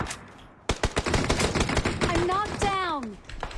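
Gunfire in a shooting video game during a showmatch: a sudden rapid burst of automatic shots, loud and dense, with whistling tonal game effects and excited voices underneath.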